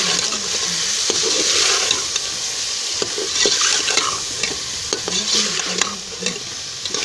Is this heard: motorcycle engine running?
no